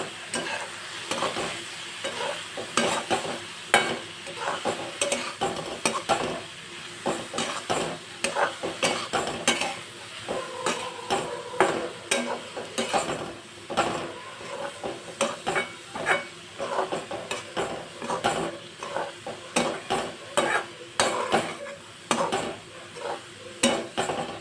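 A paneer filling seasoned with oregano and red chili flakes is mixed in a hot pan, with a long run of close, rhythmic spatula scrapes and clinks against the pan over a light sizzle.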